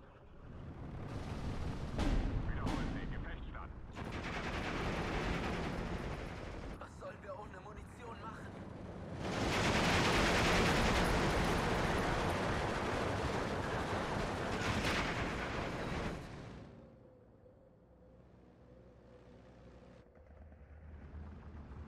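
Anti-tank gun fire in the World War II strategy game Steel Division 2 with repeated sharp cannon reports and rolling blasts, a long dense barrage in the middle, then a quieter rumble as a voice talks.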